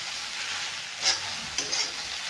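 Okra frying in peanut oil in a pan, a bright steady sizzle with a couple of quick scraping stirs, close and fairly even throughout, with no voices.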